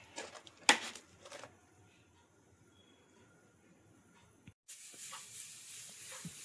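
A pressure cooker of boiling peas on the stove lets out steam: a short, loud hissing burst early on, a quiet stretch, then a steady, strong hiss that carries through to the end.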